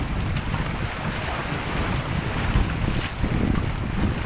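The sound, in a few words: big ocean waves crashing at rock formation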